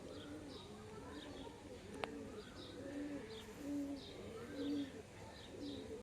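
A pair of Arshad pigeons of the Kalanka type, with black eyes, coo softly in a steady, repeating rhythm of rolling calls, fairly faint and close by.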